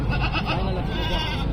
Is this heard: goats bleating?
yes